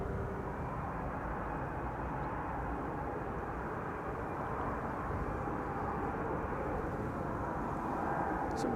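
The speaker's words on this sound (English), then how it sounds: "KLM flight 1776 arriving from Berlin, and that is an A321neo." A KLM Airbus A321neo arriving from Berlin at Amsterdam Schiphol gives a steady, broad jet roar that holds evenly throughout, fairly distant and constant with no voices.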